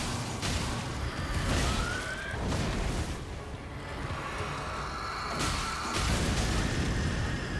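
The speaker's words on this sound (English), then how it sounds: "Explosion." Explosions in the video game Elden Ring Nightreign, heavy booming blasts with dense low rumble that swell and subside several times over sustained loud game noise.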